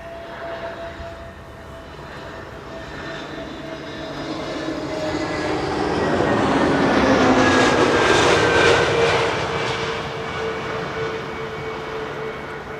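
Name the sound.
KLM airliner landing at Schiphol Kaagbaan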